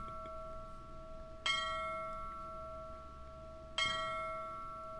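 Two bell strikes sound in the MS-DOS adventure game Ripley's Believe It or Not!: The Riddle of Master Lu, each a bright clang whose tone rings on over a steady hum, the second about two seconds after the first.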